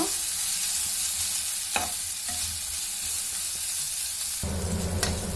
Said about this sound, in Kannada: ಚೆನ್ನಾಗಿ ಮಿಕ್ಸ್ ಮಾಡ್ತಾ ಇರಬೇಕು